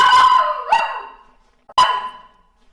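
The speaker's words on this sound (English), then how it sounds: "And a noisy dog." A noisy household dog barks twice indoors, each bark loud and close with a ringing, slightly howling tail, separated by about a second of near silence.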